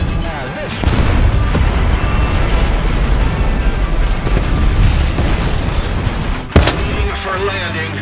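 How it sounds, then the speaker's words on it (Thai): Loud rumbling blasts and crackling gunfire fill the clip continuously, with a sharp boom near the end, a battle scene in the tank game War Thunder. "ระเบิดลง"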